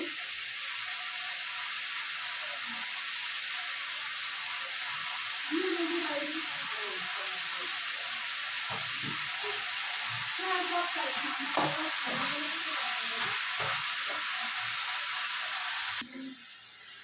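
Fenugreek leaves hit a hot pan with spiced vegetables and fry in a steady, close sizzling hiss that holds throughout, with occasional stirring scrapes and soft low sounds underneath.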